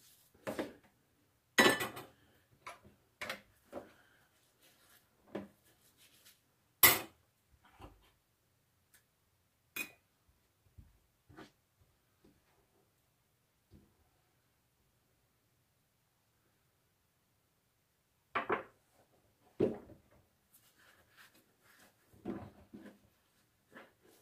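Scattered clinks and clatters of dishes and utensils, a busy burst at first, then a long quiet gap before a few more knocks near the end.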